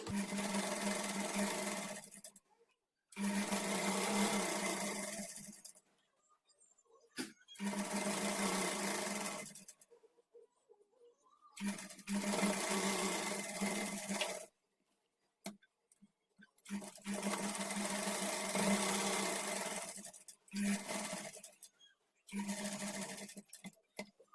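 A sewing machine stitches the side slit of a kurti in repeated bursts of steady mechanical whirring, each run lasting a few seconds and separated by short pauses.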